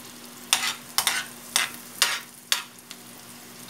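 Garlic sautéing in a pan until reddish for ginisang repolyo, with a steady soft sizzle broken by about six sharp spatula scrapes at regular intervals, close and clear with no talk.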